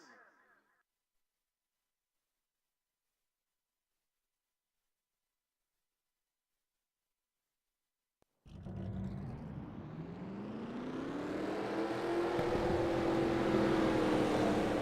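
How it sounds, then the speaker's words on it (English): Race car engines fire up at the start of a 40-car endurance event in a racing video game: near silence, then a sudden loud roar of many engines that builds and holds. "Drivers, start your engines."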